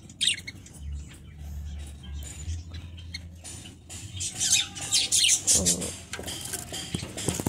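Budgerigars and Java sparrows kept together in one cage chirp and tweet in quick, busy bursts at close range, with occasional squawks and light rustling, growing livelier toward the end.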